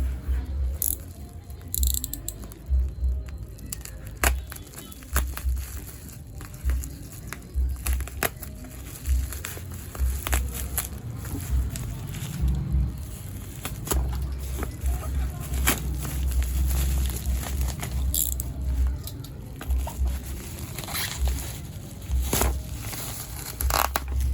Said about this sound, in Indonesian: saya unboxing dulu lampunya